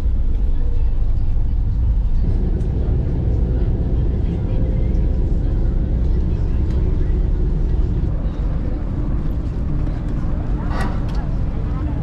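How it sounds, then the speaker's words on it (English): Passenger boat engine droning on a ride to Siquijor, a loud steady low rumble with wind and water wash, running continuously throughout. "Good smooth boat ride."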